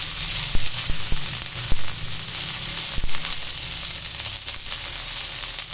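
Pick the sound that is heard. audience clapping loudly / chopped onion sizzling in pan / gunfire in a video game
chopped onion sizzling in pan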